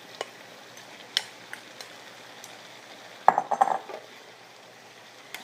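A utensil stirs fried tofu into shrimp and pork in a pan, giving soft scraping and a few sharp clinks, with a brief cluster of louder metallic scrapes and knocks near the middle over a faint background sizzle.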